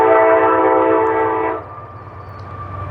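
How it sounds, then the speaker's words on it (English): A train rolls past nearby, a loud broad rumble with strong sustained tones for about a second and a half, then fading to a lower, steadier rumble of passing cars. "I'm gonna try to let this train go by"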